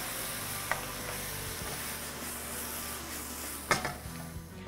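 Asparagus and beef stir-frying with soy sauce in a pan, a low steady sizzle with a couple of sharp utensil clinks against the pan, close and moderately quiet, no talking.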